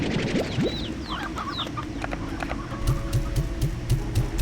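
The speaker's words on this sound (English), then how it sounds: "So many chickens!" Chickens cluck and squawk in the video game Slime Rancher 2, with several short calls in the first half, a busy game backdrop and a run of rhythmic thumps near the end.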